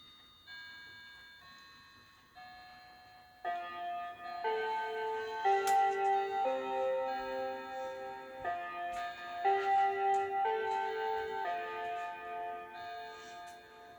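A large antique Westminster chime clock plays its quiet melody of soft, sustained chime tones over a faint steady tick, close by and gentle, with no talking.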